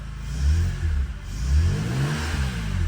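A flood-damaged BMW Z3 M Coupe with an S54 engine revs up twice close by, each surge rising and settling back to a rough idle, loud and alone with no talking.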